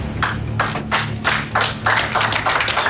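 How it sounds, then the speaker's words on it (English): A police team clapping for their sergeant back at the station, a small group's hand claps in uneven, choppy bursts, close and fairly loud, over a low background hum. "they broke into a round of applause"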